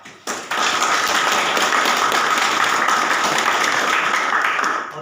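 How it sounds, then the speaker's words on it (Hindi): An audience applauds through nearly the whole stretch, a dense, steady burst of clapping that swells after a brief start and holds loud and even before easing at the end. "अपने लिए तालियां बजाइए।"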